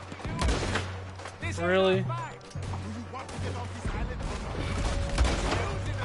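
Gunfire in Red Dead Redemption 2 on Guarma island sounds as scattered shots and bursts behind a player's voice, which talks over much of the action.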